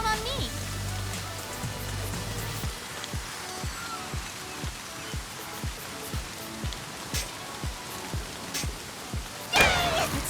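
Rain falls steadily in the golf game Everybody's Golf Hot Shots, a continuous hiss with regular soft thuds underneath and a brief louder burst near the end.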